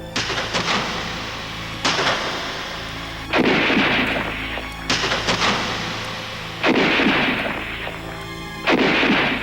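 Gunfire and artillery in a war documentary about the Paulista war, with a series of heavy booming shots and blasts arriving every second or two, each trailing off into a long rumble, loud and alone.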